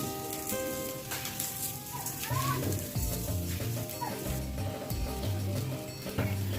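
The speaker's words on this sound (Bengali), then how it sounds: "নারকেলটাকে ভেজে নিয়েছি" Grated coconut with sugar and a pinch of salt sizzles and frying in a hot pan, a steady crackling sizzle with stirring and scraping sounds, with no talk.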